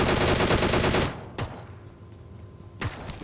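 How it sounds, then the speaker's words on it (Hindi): Gunfire from the PUBG Mobile game: a rapid burst of loud shots for about a second, then two isolated sharp reports spaced apart over a quiet background. "तो यहाँ से फायर कर रहा था"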